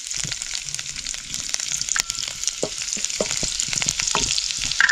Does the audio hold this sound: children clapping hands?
no